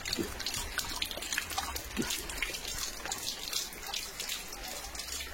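A German Shepherd laps water in quick, rhythmic wet slurps, close and continuous, with a faint trickle underneath.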